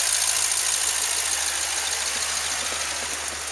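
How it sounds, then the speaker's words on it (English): A Dodge 3500 one-ton cargo van with a 5.2 engine and a compressed natural gas fuel system runs at a steady idle, close and loud, a constant rough mechanical drone with a faint high whine above it. "Motor runs up good."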